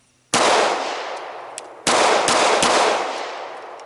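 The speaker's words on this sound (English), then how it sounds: "This gun is a pleasure to shoot." Two loud, close gunshots from a Glock 17 pistol fitted with custom trigger work, each a sharp crack with a long ringing decay, spaced about a second and a half apart, with no talking.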